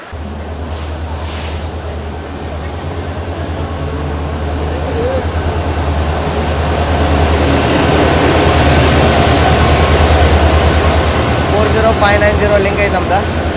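The Vasco–Hazrat Nizamuddin Express rumbles past steadily for a long stretch in continuous rain, with a loud continuous roar and high metallic whine over a constant wash of rain noise.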